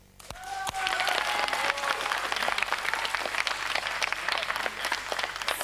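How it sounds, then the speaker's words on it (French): A live TV studio audience bursts into applause, dense steady clapping that swells quickly and holds fairly loud for several seconds. "On applaudit ?"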